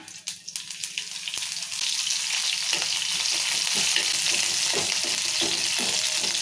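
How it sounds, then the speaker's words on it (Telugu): Cumin, mustard seeds and green chillies fry in hot oil for a tempering, building from a few soft pops into a loud, steady close crackling sizzle with occasional stirring. "తాలింపు గింజలు వేస్తున్నా జీలకర్ర ఆవాలు"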